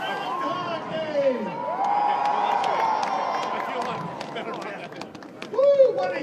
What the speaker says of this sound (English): Woo, what a huge crowd.